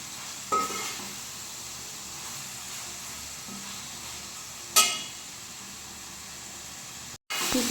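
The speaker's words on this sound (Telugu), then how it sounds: "టమాటా ఇలా ఫ్రై అయిపోతుంది." Chopped tomato pieces frying in a pan for Andhra-style fish curry, a steady soft sizzle with a couple of sharp bursts as something is added or stirred, ending with a brief clunk.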